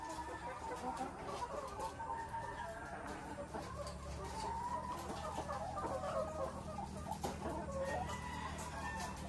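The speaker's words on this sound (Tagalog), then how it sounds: "mga survivor na manok, konti na lang po. Ito na lang po sila lahat." Chickens at a layer farm that survived a fire cluck steadily and close by, with scattered crowing from a rooster in a dense, continuous flock chorus.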